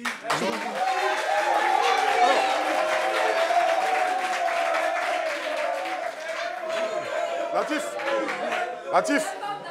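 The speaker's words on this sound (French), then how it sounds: "Ça fait 2 fois qu'on applaudit pour elle." Sustained audience applause at a community meeting on strict parenting, dense and steady for several seconds with chatter and voices mixed in, tapering toward the end.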